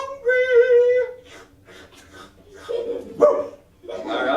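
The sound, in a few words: voice imitating a hungry dog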